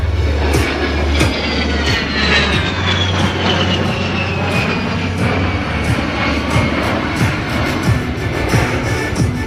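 An A-10 jet flying a slow roll at an outdoor air show, heard as a loud, sustained turbofan roar with a whine that slowly falls in pitch as it passes.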